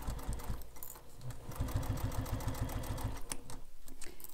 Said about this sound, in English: Take your time when you're sewing your handle so you get a nice straight edge.